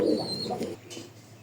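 A club racing pigeon gives a short, soft coo up close, a brief throaty murmur, then fades into quiet room noise.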